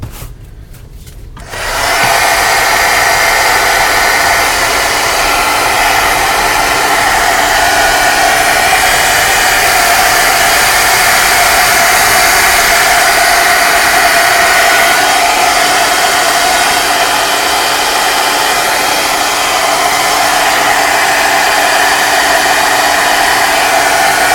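Hair dryer used to dry freshly applied Hawaiian Blue paint on an art piece: a steady, loud, close whooshing blower that switches on after a brief moment and runs continuously without talk.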